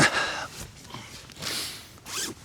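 Tent zips on a Vango Tornado 150 being drawn open outdoors, two separate rasping pulls with a gap between, close and moderately loud.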